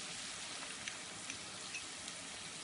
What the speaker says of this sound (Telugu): దీన్ని బాగా కొంచెం రెడీస్ వచ్చేంత వరకు ఫ్రై చేసుకుందాము.